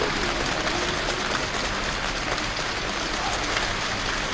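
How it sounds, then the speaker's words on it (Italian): Heavy rain falls in a dense, unbroken hiss, loud and close, with constant patter of drops on surfaces and no voices. "E continua a piovere."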